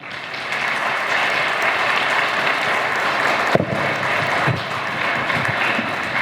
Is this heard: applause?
yes